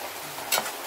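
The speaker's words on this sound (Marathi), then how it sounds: "तरी तो 5 मिनिटं तरी चांगलं परतून घ्या तेल सुटेपर्यंत." Fish curry masala sizzles steadily in hot oil in a pan over a wood-fired stove, a close, continuous frying hiss with a brief louder flare of stirring.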